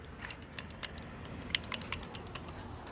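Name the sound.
clicky crosswalk pedestrian button being pressed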